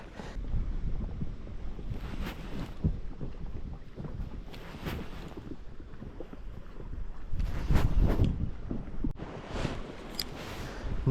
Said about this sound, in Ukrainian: Вітер такий, що треба вдягати вже капюшончик.